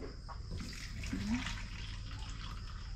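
Water pouring into a tub, a soft steady gushing and splashing that stays faint and continuous, with a brief low tonal sound partway through.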